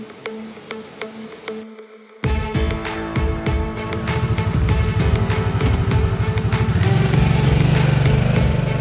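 A Harley-Davidson Sportster S motorcycle fires up after a short pause, then its engine settles into a loud, lumpy, throbbing rumble that builds steadily as the bike rides off, close and alone without voices.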